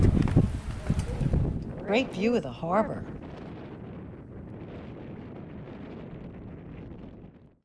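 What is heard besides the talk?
wind at top of St. Augustine fort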